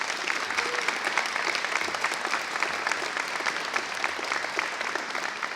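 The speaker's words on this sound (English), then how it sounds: "Let's give our governor a round of applause." Dense, steady applause for Governor Pritzker from the audience at a press conference at West40 Safe School, many hands clapping evenly and loudly throughout with no break.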